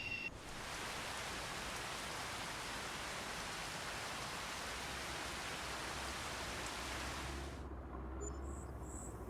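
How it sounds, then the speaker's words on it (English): Rain in the farming video game Farming Simulator 25 makes a steady, loud, hissing downpour that holds evenly for several seconds, then stops abruptly near the end. "I'm glad that rain has managed to go away."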